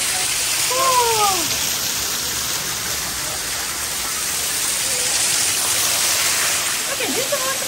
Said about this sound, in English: Okay, this is waterfall.